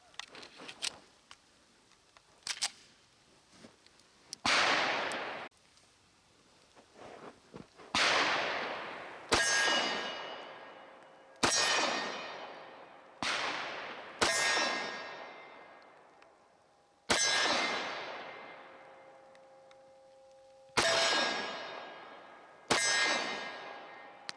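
A Dan Wesson 1911 pistol fires 230-grain .45 ACP rounds: roughly ten sharp, loud shots spaced a second or two apart, each ringing off with a long echo, plus fainter clicks and handling noise between them.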